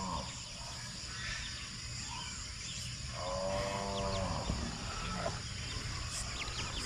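A carabao water buffalo lets out one fairly faint, drawn-out moo midway through, set against steady outdoor farm background noise.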